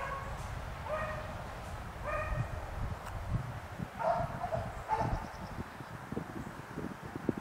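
Beagles on a hunt bay and yip in short repeated bursts, with a thin whimpering squeal mixed in, heard at moderate distance over wind and rustling outdoor noise.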